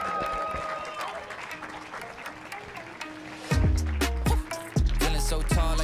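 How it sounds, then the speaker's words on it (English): Crowd clapping at a live Minneapolis stage show, with an emcee's voice talking loudly over the applause before thumping bass-heavy music kicks in and takes over. "Everybody start clapping right now."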